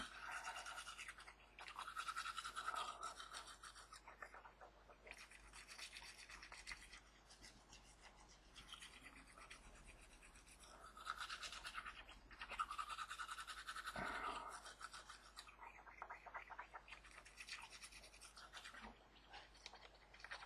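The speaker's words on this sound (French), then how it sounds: "Je suis en train de me laver les dents." Teeth being brushed with a toothbrush, a steady close scrubbing that runs through the whole stretch with short pauses and bursts of quicker strokes.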